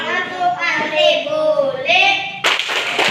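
Children in a classroom chant a rhythmic clapping-game verse before prayer, their sung voices carrying for a couple of seconds before a sharp burst of close hand claps breaks in.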